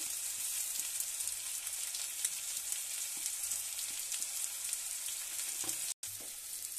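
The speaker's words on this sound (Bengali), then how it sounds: "এবার আটকে যাচ্ছে আদা রসুনটা কষানো হয়ে গেছে।" Ginger-garlic paste with turmeric and chili powder sautés in a pan, giving a steady, bright sizzle and hiss with occasional faint scraping taps. The sizzle runs throughout, broken only by a brief dropout, with no talking.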